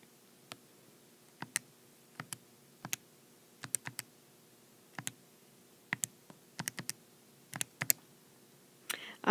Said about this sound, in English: So I'm just going to type the numerator in my calculator as is with all the parentheses.